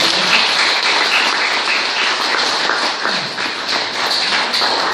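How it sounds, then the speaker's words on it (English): A big round of applause from an evening audience at a community opening event, dense steady clapping filling the room for the whole stretch with no talk over it. "can we just one more big round of applause for the three of them?"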